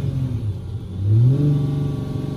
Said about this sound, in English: Let's rev it one more time for you.